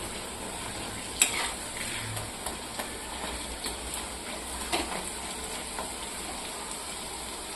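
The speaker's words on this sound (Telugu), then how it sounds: "అప్పుడప్పుడు మనము ఇలా తిప్పుకుంటూ మొత్తము మంచిగా వేగే విధంగా ఫ్రై చేసుకోవాలి" Cauliflower stir-fried for fried rice in a pan, giving a steady close sizzle with recurring scrapes and clatter as the pieces are turned, including a sharper knock near the start.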